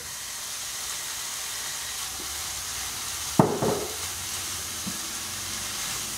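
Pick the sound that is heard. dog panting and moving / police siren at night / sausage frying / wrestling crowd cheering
sausage frying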